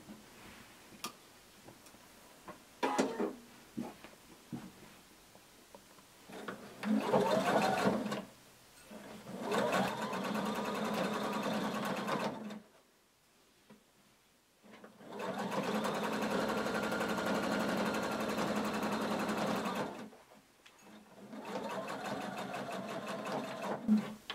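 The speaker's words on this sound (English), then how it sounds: "we're going to sew using a 1/4 inch seam allowance across the pocket" A sewing machine stitches a quarter-inch pocket seam on a hooded tunic, running in several steady buzzing bursts of a few seconds each, separated by short pauses and light ticking, close and clear.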